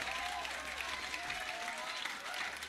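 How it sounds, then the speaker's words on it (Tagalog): A dense, steady wash of audience clapping fills a hall during a sermon talk, continuous and even with no voices over it. "Yung palakpak parang mga taga New Zealand eh."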